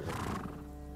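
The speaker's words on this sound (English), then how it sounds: "Aw, look at the horse." A horse in the samurai game Ghost of Tsushima whinnies with a breathy neigh over a rumble of hooves, fading into a steady, quieter background.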